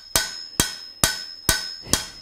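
A blacksmith strikes metal against an anvil with five sharp, ringing hammer blows at an even pace, each loud and close with a bright metallic ring.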